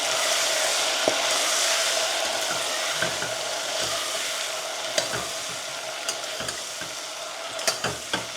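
Vegetables seasoned with about three spoons of salt are stirred in a hot pan, giving a loud, continuous sizzle with scattered spoon clacks and scrapes growing more frequent toward the end.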